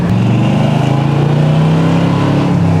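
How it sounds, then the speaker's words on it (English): 1975 Corvette with a small-block V8 and stock mufflers, revving loudly nearby in a throaty burst whose pitch rises and falls, no talk. "that small block sounds real nice"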